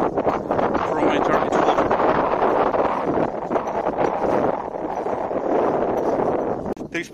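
Strong gusty wind at an outdoor shooting range, roaring and buffeting the microphone continuously at close range.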